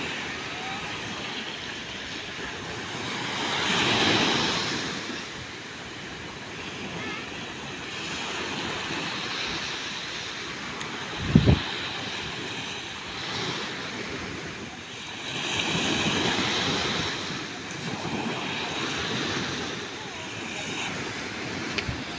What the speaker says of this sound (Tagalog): At medyo ano naman po ang dagat, hindi naman as in sobrang maalon.